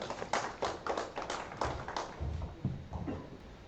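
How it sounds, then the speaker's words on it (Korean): Dense applause from a lecture audience, steady clapping that swells and fades slightly over a few seconds, with no talking. "박수 부탁드리겠습니다"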